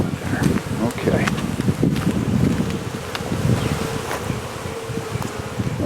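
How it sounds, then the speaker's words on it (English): A dense swarm of honey bees buzzing loudly and continuously while a beehive is opened for a summer inspection, close and busy with rustling movement throughout. "This is packed with bees"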